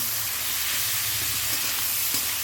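Crab pieces fry in a pan with a steady, close hiss and sizzle, broadband and continuous throughout with no talking.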